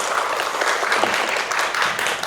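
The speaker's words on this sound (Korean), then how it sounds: "박수를 좀 부탁드리겠습니다." Audience applauding after a talk at a solo art exhibition, a brief, dense burst of clapping from many hands at even loudness throughout.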